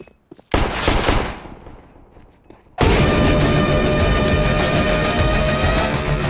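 Rapid automatic gunfire from the video game CS:GO on the Dust II map, with a brief loud burst early on, then a dense, sustained, very loud stream of shots filling the rest.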